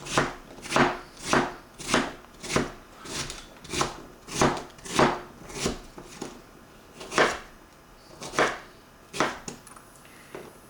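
A knife chops fresh cucumber with the peel on against a cutting board, making a quick, even series of crisp thuds at close range, the rhythm slowing slightly toward the end.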